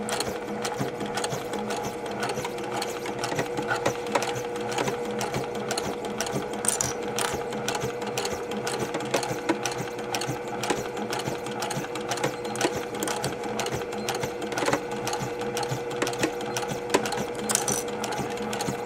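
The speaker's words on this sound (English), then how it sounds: "we're sewing to make sure everything is in place" A sewing machine stitches through a quilt-as-you-go block, running steadily and closely for the whole stretch with rapid needle clatter and mechanical whir, no talk over it.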